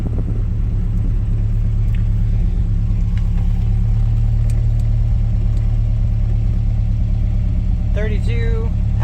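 A 1960 MGA Coupe engine idling, a steady low rumble with even pulsing throughout, heard from inside the car with a brief chirp near the end.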